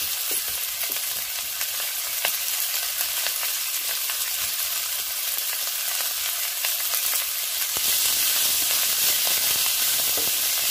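Grated coconut being stirred into honagone greens sizzling in a hot pan, a steady broadband frying hiss with scraping stir strokes throughout, close and fairly loud with no talking.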